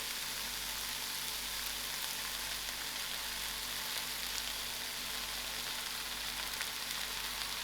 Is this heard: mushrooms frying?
yes